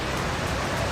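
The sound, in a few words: rushing flood water in heavy rain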